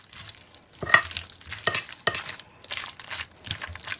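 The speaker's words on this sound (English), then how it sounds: "So I'm just stirring everything around to combine it in our casserole dish." Tuna casserole mixture is stirred in a casserole dish, a series of irregular, moist scraping strokes and soft knocks that rise and fall close by, with no talking.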